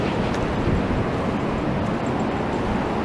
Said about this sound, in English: all that sand gets washed over and the waves come over